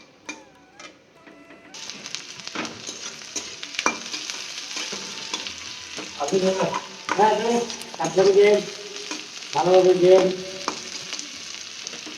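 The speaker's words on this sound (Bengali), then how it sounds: "লঙ্কা আর এই যে পেঁয়াজ কুচিয়ে রেখেছি, এটা ভাজবো।" Chillies and chopped onions fry in a pan with a continuous sizzling hiss, punctuated by repeated scraping and clattering strokes of a spatula as they are stirred.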